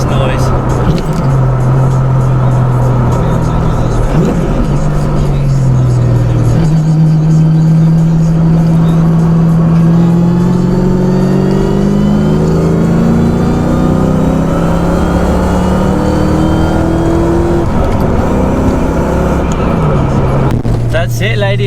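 A 1000+ hp LS-engined Mustang project car drives and revs, its engine note rising and falling through the gears, loud and close inside the cabin, with someone speaking over it.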